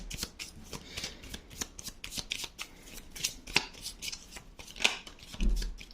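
Tarot cards being shuffled by hand in a series of quick, crisp riffling bursts and flicks, close and fairly quiet, with no talking over them.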